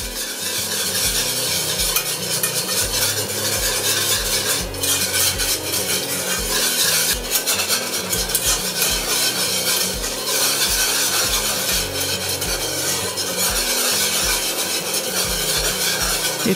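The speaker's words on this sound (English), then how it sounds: "It's important to keep it stirred." Spoon scraping and stirring a boiling chocolate cake mixture in a pot, with steady rhythmic rubbing strokes against the pot over a continuous bubbling hiss, close and alone.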